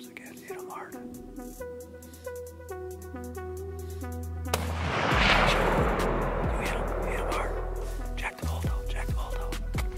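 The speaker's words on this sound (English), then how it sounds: "I'm about to take this shot" A rifle fires at an elk from a ridge top during a hunt, a single sharp report midway followed by a rolling echo. Music plays throughout and a voice is heard.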